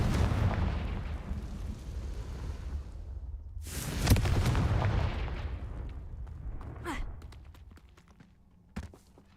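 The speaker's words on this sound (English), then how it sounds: "Confringo!" In the video game Hogwarts Legacy, the Confringo fire spell sets off booming blasts: a rumbling explosion fades, then a sharp crack brings a second loud burst, followed by a sweeping whoosh and a final snap as the noise settles.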